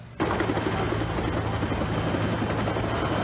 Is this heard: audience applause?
no